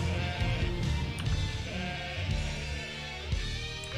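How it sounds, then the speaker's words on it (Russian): Sticky cows in the video game Rock of Ages 3 let out sheep-like bleats, loud and repeated over a dense game soundscape with rolling rumble underneath. "Это липкие коровы."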